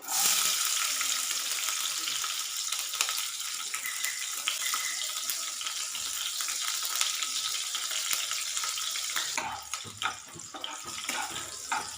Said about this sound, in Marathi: तर कढईमध्ये आपल्याला मिरच्या घालायच्या आहे तर मिरच्या घालूया